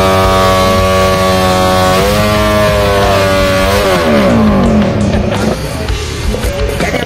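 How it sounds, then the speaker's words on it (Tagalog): Several racing motorcycle engines, FI 12k-category race bikes at a post-race gathering in Maitum, rev loudly together, with sustained droning harmonics rising and falling as throttles open, growing rougher and busier toward the end. "nagbukasan ng makina after ng game"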